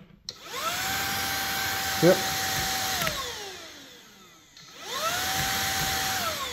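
A Shark UZ145 cordless vacuum with a newly replaced battery spins up with a rising whine, runs at a steady high-pitched hum, winds down, then starts again, with a voice speaking briefly.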